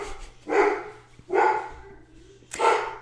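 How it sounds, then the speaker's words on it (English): A giant dog barks indoors, three loud, deep woofs evenly spaced about a second apart, near and with no voices over them. "There's my giant dog."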